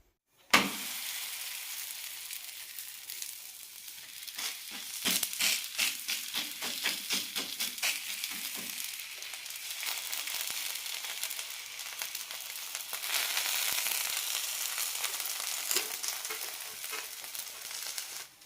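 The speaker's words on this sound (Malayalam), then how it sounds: "ഇനി ചൂടായ ദോശക്കല്ലിലേക്ക് ഇടാം." A ragi sweet potato ada dosa laid on a hot dosa stone sizzles steadily and fairly loudly for the whole stretch, with crackling bursts after a sharp start and no one talking.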